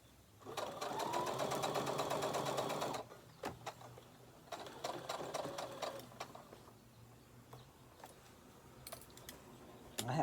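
A sewing machine stitches a fabric book sleeve in a fast, rattling run lasting a few seconds. After a pause, shorter bursts of stitching and scattered clicks follow.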